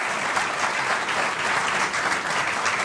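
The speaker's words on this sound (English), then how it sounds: "How about a round of applause for that?" Steady studio audience applause during a Pittsburgh Penguins hockey talk show, a dense, continuous wash of many hands clapping at a constant level with no voices over it.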